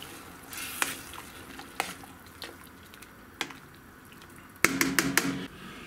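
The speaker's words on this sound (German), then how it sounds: "Ich werde das ein bisschen vermengen." A spoon stirs marinade in a Dutch oven for a German sauerbraten, making quiet wet squelches and occasional sharp scraping clicks against the pot. A denser cluster of clicks comes near the end, with no talking.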